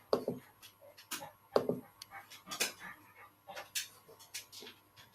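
A big brown dog of about 70 pounds moves around indoors: quiet scattered thumps, panting and soft clicks at irregular intervals, fairly faint, with occasional low voices in the background.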